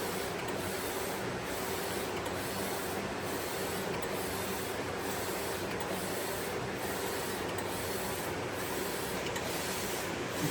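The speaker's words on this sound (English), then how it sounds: "This one is now printing at 8 pass, 100 white." A DTF printer with an Epson I3200 print head prints at 8 pass with 100 white, giving a steady loud mechanical hum and hiss broken by regular rhythmic carriage sweeps about every second, with no voices.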